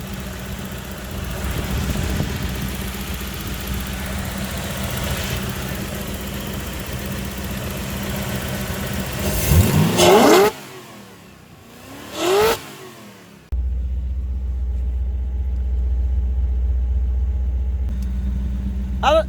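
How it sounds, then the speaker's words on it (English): A Toyota 1UZ V8 swapped into a two-wheel-drive Hilux ute revs hard with loud intake roar, climbs in two sharp throttle blips, then settles into a deep steady drone. "Induction noise is pretty massive."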